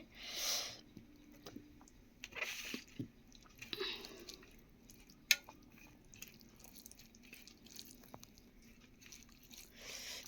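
Someone eating rice with meat curry and potatoes up close, with soft wet chewing and squishing mouth sounds and occasional small clicks, fairly quiet and intermittent.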